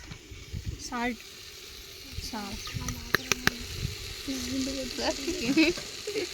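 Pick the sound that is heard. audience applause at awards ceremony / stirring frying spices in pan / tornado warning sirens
stirring frying spices in pan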